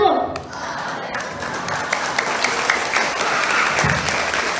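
Students at a school OSIS candidate debate applaud candidate pair 01, a sustained round of lively clapping from a room of people, heard loud and close with a voice speaking over it at the start.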